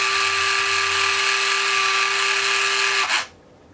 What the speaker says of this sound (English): This is a retract that's been installed in the structure.